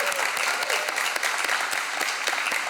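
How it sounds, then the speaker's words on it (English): A conference crowd at PyData Amsterdam 2023 claps warmly in a dense, continuous burst of many hands, lasting a few seconds with no speech over it. "Let's give them a clap, eh?"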